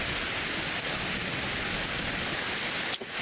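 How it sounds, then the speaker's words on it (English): Steady rain pours across the farmland of Farming Simulator 25 as a dense, even hiss of falling water, with a faint rumble underneath. "Well, it's still raining."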